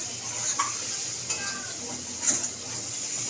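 Masala for chickpea curry sautéing in a pan, a soft close sizzle broken by a few short scraping stirs and light clinks of a spoon on the pan.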